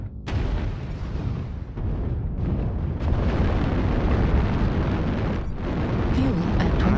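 LRM missile strikes burst in a mech combat game on an alpine peaks battlefield, a dense, continuous barrage of loud explosions and rumbling blasts that runs without pause for the whole stretch.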